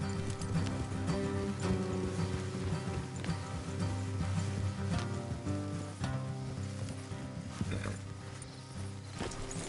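Horses gallop in Red Dead Redemption 2 on a PS4 Slim, with steady, dense hoofbeats rolling continuously under a thick, busy game soundscape and no talking.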